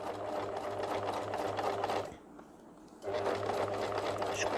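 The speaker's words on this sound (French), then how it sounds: "Je couds par-dessus mes épingles." Sewing machine stitching over pins while sewing a beginner's fabric pencil pot pouch, a close steady motor whir that pauses for about a second in the middle, then resumes.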